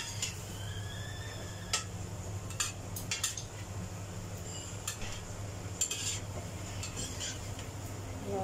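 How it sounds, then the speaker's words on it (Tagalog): A spoon stirs soup thickened with cornstarch in a pot, with soft scraping and sporadic light clinks against the metal over a steady low hum, quiet and close, without talking. "Haluin natin."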